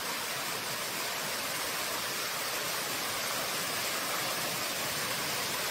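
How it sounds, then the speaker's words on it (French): Constant broadband rush of the Cascades de la Pissevieille waterfall, an even hiss of falling water at moderate level with no voices. "Celle-là, elle fera partie des 39 cascades du sujet."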